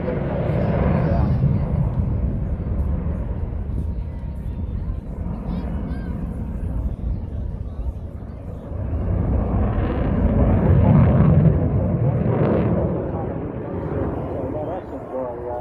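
A jet aircraft roars past at Eastbourne airshow, a loud broad rumble that swells and fades over several seconds, with a commentator talking over it.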